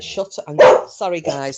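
A dog barks several times in quick bursts, loud and close, with a person speaking between and over the barks.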